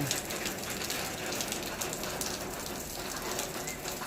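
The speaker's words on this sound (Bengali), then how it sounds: "কেরালায় এখন বৃষ্টি হচ্ছে সকাল 7টা থেকে" Steady rain falling in Kerala, a dense continuous hiss of drops spattering on surfaces, fairly close and even throughout with no voices.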